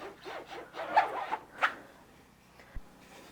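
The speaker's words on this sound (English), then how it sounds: "So I'm going to squeegee one more time." A squeegee drags ink across a screen-printing screen in a few short, rasping strokes, faint and close, with quiet pauses between pushes.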